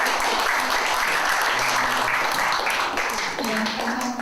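A forum audience in Yongsan applauds in welcome, a dense, steady wash of clapping filling the room at full volume, with some voices mixed in beneath it.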